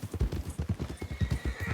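Close, brisk clip-clop of hooves in an even, rapid rhythm, a horse trotting steadily on a hard surface.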